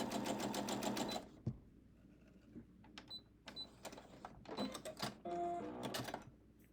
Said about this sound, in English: Quarter inch seam allowance.